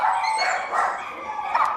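Several dogs bark loudly and close in quick overlapping bursts, with some higher yips mixed in, during a noisy night-time scene at a south Texas dog rescue.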